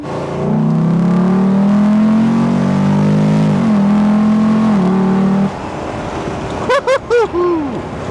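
A Land Rover Defender Beach Runner accelerating outdoors near the beach, a loud, close engine drone rising steadily in pitch for several seconds, then cutting off into wind noise followed by a few short whooping shouts.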